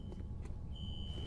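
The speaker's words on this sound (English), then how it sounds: "A fire alarm. There was a trigger at a security office on that floor." A fire alarm triggered in a security office in the video game F.E.A.R., a steady high electronic tone that comes in partway through and holds over a low background rumble.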